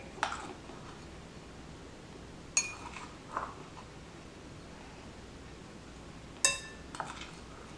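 A metal measuring spoon clinking against a glass bowl while baking powder is added to chocolate chip muffin batter, a few sharp isolated taps spread across a quiet kitchen with faint background hiss.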